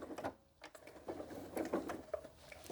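A sewing machine back stitching fabric on a log cabin quilt block gives a short, quiet burst of rapid mechanical needle patter with brief pauses, close by and without speech.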